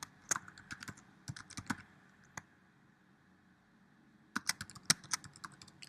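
A computer keyboard typed in two short bursts of quick, close keystrokes while a Java class name is entered, separated by a quiet pause, with no speech.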